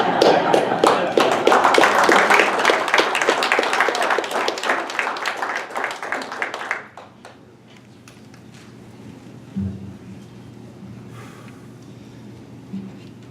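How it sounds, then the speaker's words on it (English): A crowd claps in a round of applause, dense and lively for several seconds before tapering off, leaving a low hum with faint thuds. "Let's give another round of applause for Mr. Bill."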